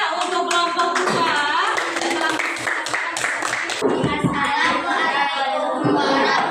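Classroom group clapping for group 2 during a teaching assessment session, a short spell of fairly loud, uneven hand claps mixed with children's voices and chatter.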